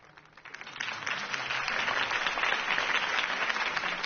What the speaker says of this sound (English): could have heard that applause